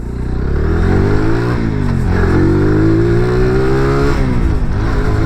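A SKYGO Magnus 200 motorcycle accelerates hard from a standstill, its engine note climbing loudly through the gears with brief dips at each shift, close and steady throughout.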